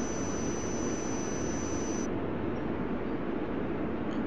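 A jet airliner roars during takeoff at Frankfurt in the Tower! 2011 simulation game, a steady, loud, broadband engine rush that holds unbroken throughout.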